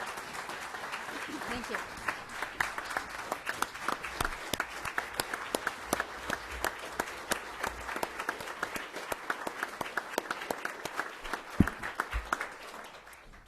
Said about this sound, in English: I think that applause is because I really did keep my comments to 15 minutes.